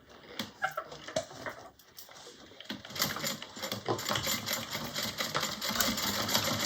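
A domestic sewing machine stitching fabric for a mini bowler bag, starting with a few short bursts and then running in a steady, close, rapid whir.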